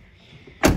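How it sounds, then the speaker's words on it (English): Jeep Cherokee car door shutting once with a loud, close thud after a quiet moment. "Close the door here"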